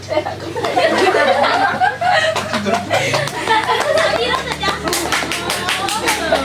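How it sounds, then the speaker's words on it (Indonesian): Workshop audience breaking into big, loud clapping, a thick crowd of hands mixed with chuckles and light laughter, continuous and close throughout. "Tepuk tangan besar."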